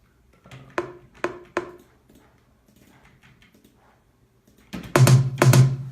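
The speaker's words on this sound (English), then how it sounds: "This just adds a little bit of attack to the toms that are layered on top of it." Three quick tom hits, then a pause with faint noise, followed by two louder, fuller layered tom strikes with sharp attack.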